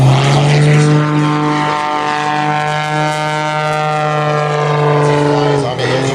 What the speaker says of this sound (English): the 400 horsepower, highly modified Pit Special, designed by Curtis Pitts in the 60s back in Florida